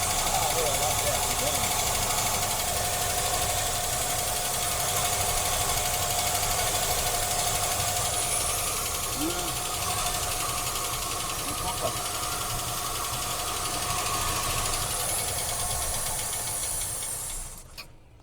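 A car engine that sat unused for over 25 years idles steadily and loudly nearby, a constant mechanical drone with voices talking over it before it cuts off at the end.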